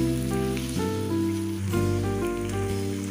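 Meat for aloo gosht sizzles and fries in a pan, a continuous hiss that runs steadily beneath loud background music.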